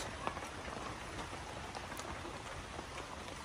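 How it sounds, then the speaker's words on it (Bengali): Steady rain patters down on a surface, a dense continuous hiss with scattered drop taps, nobody speaking. "আরে বৃষ্টি"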